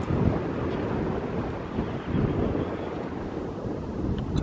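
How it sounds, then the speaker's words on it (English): Gusty wind buffets the microphone outdoors at a construction site beside a field house, a steady rough roar with louder surges, no talk over it. "Just start getting windy out here."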